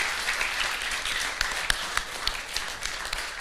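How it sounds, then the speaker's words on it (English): Church congregation applauding at a youth conference, a steady wash of claps with a few sharper individual claps standing out, fairly close and continuous. "Everybody clap for the Lord,"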